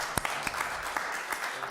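Sparse audience applause at a candidates' debate: a handful of scattered, fairly faint claps with irregular sharp hits over a soft room background.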